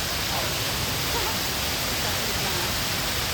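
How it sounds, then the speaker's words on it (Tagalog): A mini waterfall at Tinuy-an Falls in Bislig pours in a dense, steady rush of falling water, close and loud, with no break throughout. "Ito na yung mini waterfall dito."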